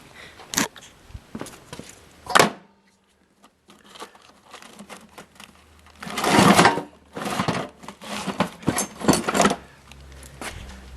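GM Delco alternator roller drive is spun by hand, giving short bursts of rattling, whirring clicks separated by pauses, close and fairly loud, with a denser rolling stretch midway.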